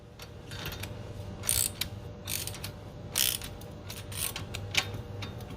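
A wrench tightens the tension nut on a Honda Rubicon rear knuckle, a series of close ratcheting clicks in short irregular bursts, with no talking.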